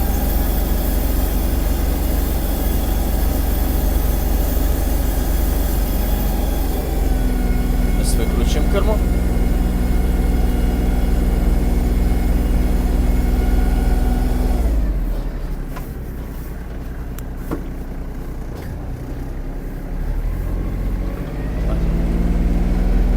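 A Kubota KT-27 mini tractor with a cab runs its engine while driving and turning in place, a loud steady drone with shifting harmonic whine that dips briefly midway, close up, with someone talking over it.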